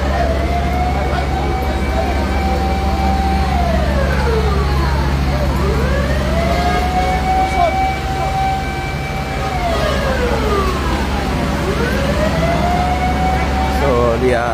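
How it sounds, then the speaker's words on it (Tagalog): Responding fire trucks at a fire on E. Luna Street in Butuan City, Philippines, sound wailing sirens that rise and fall in long sweeping cycles, several overlapping, loud and close over a steady low engine rumble and street noise. "makita na to ang mga na-responding nga fire truck."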